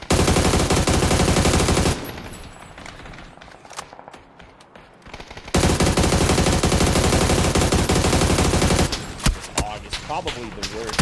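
Sustained automatic assault rifle fire in PUBG, a heavy-recoil AR, loud and continuous in long bursts, dropping out for a few seconds mid-way before resuming with a sharp stuttering burst.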